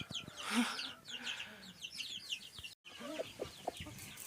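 Hens cluck and murmur nearby in soft, irregular bursts, with small birds chirping in the background.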